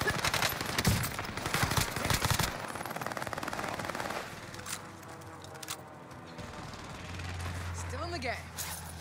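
Rapid automatic gunfire in the shooter game Warzone, loud bursts for the first couple of seconds, then scattered shots and quieter action, with a player talking over it.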